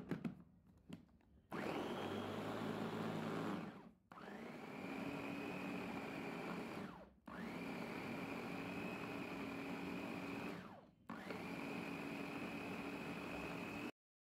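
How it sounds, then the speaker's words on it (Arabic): An electric blender whirs loudly, mincing marinade ingredients with a sprig of fresh green coriander, running in four long steady bursts separated by brief pauses. "وهفرم كل المكونات دهيت مع بعضها"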